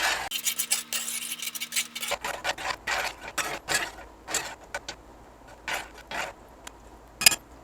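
A metal utensil mixing food in a cast iron pot, with repeated scraping and clanking strokes, rapid at first and then slower and spaced out, close and distinct with no talking.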